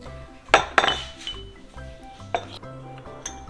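A spoon clinks against a glass while stirring sugar into water for rainbow water, with a few sharp clinks spaced apart, close and fairly loud, and faint background noise between them.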